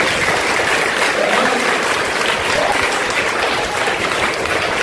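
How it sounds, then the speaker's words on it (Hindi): An audience at a school gathering claps loudly and continuously, a dense, even wash of hand claps close to the microphone with no pauses throughout. "इनके लिए तो पहले तालियां बजाएं आप"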